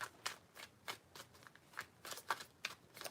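A tarot deck shuffled by hand, quick papery flicks arriving in a steady rhythm of about ten short bursts, close and fairly soft with no talking.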